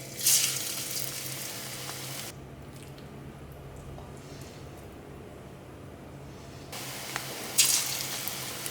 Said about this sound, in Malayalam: ഇനി നമുക്ക് ചൂടായ എണ്ണയിലോട്ട് ഈ മിക്സിൽ നിന്ന് കുറേശ്ശെ ഇട്ടിട്ട് ഫ്രൈ ചെയ്തെടുക്കുക വേണ്ടേ.